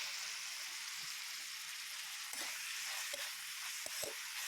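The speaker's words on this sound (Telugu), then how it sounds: "క్యారెట్, బీన్స్ అన్నీ వేసి సాటే చేసుకోవాలి మనము." Carrots and beans sautéing in a pan for an Indian-style pasta, giving a steady close sizzle with a few soft stirring knocks and no talk.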